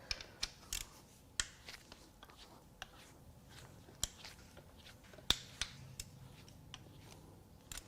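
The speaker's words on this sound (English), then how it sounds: "Now it is time to crack the valve cover bolts loose." Wrench clicks and sharp metallic cracks from valve cover bolts being broken loose on a failed Porsche Boxster S M96 engine during a teardown, a series of close, irregular snaps and ratchet ticks over quiet background.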